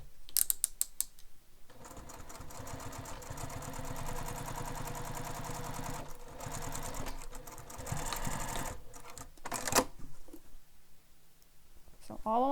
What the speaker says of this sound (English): So top stitch that top edge.